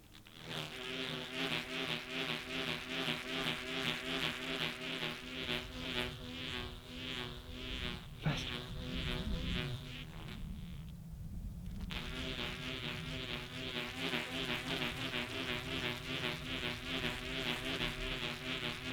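A homemade rubber-band bee buzzer toy made from common household items is spun, producing a continuous insect-like buzzing drone that rises and falls with each rotation and stays loud and close throughout.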